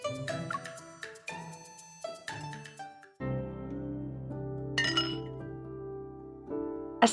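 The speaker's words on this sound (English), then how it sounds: "As cups clink and stories flow, we reminisce about our days as sect disciples" Cups clink together at a warm feast, a run of bright glassy chimes in quick clusters over the first three seconds, then a sustained tonal bed with a few more light taps near the end.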